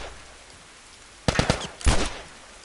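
Gunfire in The Last of Us Remastered comes as two sharp bursts of shots, each a quick cluster of cracks, set against a quiet background.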